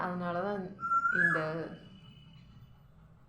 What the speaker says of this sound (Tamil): குயில் சத்தம்லாம் கேட்குது